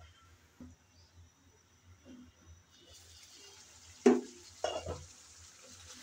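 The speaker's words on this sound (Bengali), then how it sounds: "এখন এভাবে ভালো করে কষিয়ে নেব 5-6 মিনিট।" Chicken in yogurt masala is stirred in a pan, with soft scraping and scattered clatters of a spoon against the pot over a faint low sizzle, a few louder knocks near the end.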